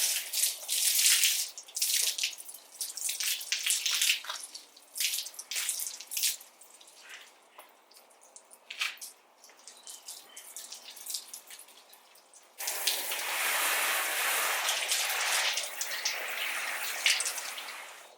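Water splashes and drips across a car panel being washed with shampoo, irregular wet sloshing and trickling, followed by a steadier, louder rush of running water near the end.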